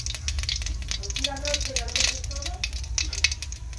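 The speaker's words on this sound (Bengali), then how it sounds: "এখন দিয়ে দিলাম সামান্য পরিমাণ একটু জিরে ফোড়ন" Cumin seeds tempering in hot oil, a light crackling sizzle with small pops and rattles over a few seconds, close and moderately loud, faint voice in the background.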